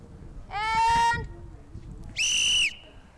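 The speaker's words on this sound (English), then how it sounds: "All right, on the whistle." A race-start whistle sounds in two loud, shrill blasts, the first held about three-quarters of a second, the second shorter and higher, with faint chatter beneath.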